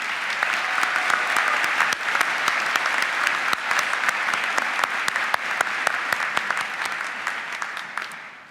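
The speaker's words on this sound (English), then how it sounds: "Let's have one more round of applause." A large audience at a 2019 university commencement claps in a long, steady, dense burst of applause, with sharp individual claps standing out close by, sustained throughout before tapering slightly at the end.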